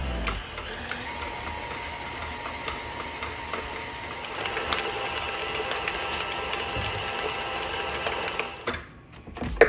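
An electric mixer smoothing chilled pastry cream, a continuous close whirring motor drone with faint clinks before it cuts off near the end.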